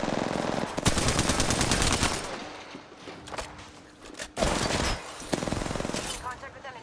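Rapid automatic gunfire from an Alternator submachine gun in the Apex Legends video game, several long bursts with short pauses between them, loud and close, with game voice lines around them.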